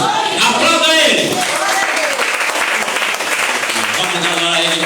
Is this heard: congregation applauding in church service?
yes